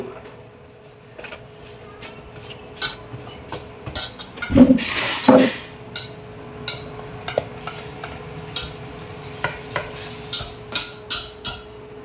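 A home-cooked dish being stirred in a pan, heard as a steady run of sharp utensil scrapes and clinks against the metal, with a brief voice about halfway through.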